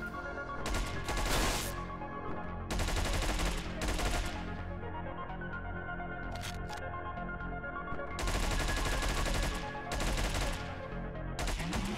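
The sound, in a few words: gunfire headshotting enemies in Hotline Miami 2 video game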